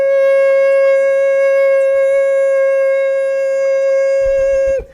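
A voice imitates an alarm, holding one steady, loud electronic-sounding tone with strong harmonics for nearly five seconds before it cuts off with a breathy stop.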